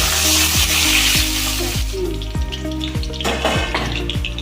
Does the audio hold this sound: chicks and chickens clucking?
no